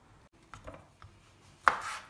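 A few sharp knife chops on a cutting board cutting tomato, spaced irregularly, with a louder final cut; close and otherwise quiet.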